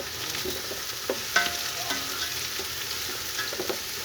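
Shredded cabbage and vegetables are stirred and fried in a pan, a steady sizzle broken by repeated scraping and clinking of a spoon against the metal.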